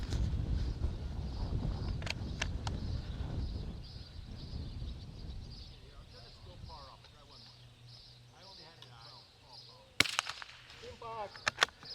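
Rifle fire at steel targets on a precision rifle range: a few sharp, distant cracks over wind noise, then a louder close shot near the end followed by quick smaller reports.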